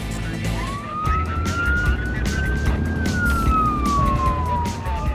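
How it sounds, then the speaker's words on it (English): A police siren wails in a long rising and falling sweep over steady road and engine noise, loud and fairly close. "He's not aware of the flashing blue lights or the sirens"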